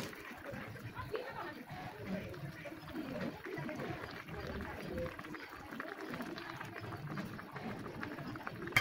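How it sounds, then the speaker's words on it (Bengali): Hilsa fish curry broth with drumstick and lentil bori simmers in a covered pan, a faint, steady, low bubbling and hiss that runs unbroken without any talking. "ঝোল ফুটে গিয়েছে, এখন মাছগুলো দিয়ে দিব"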